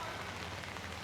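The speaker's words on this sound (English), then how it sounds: "Very rainy today." Steady rain falling around a walker under an umbrella in Siem Reap, Cambodia, a dense even hiss of drops with no pauses, close and constant throughout.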